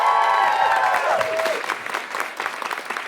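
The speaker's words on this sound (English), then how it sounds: "Let's hear it one more time for David" Audience applause breaks out for a live acoustic performance at a session, a dense wash of clapping that rises as a ringing final note fades and then carries on steadily close by.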